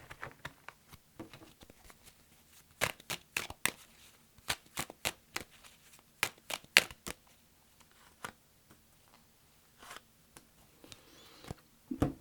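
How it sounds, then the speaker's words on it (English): Tarot cards snapped and shuffled in a series of sharp, close papery riffles and flicks, spaced irregularly with quiet gaps between bursts, alone without voices. "Let me just put a couple more cards over this before we go."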